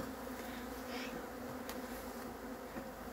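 Honeybees buzzing around a hive being robbed, a dense steady droning swarm heard close and continuous, with no voices.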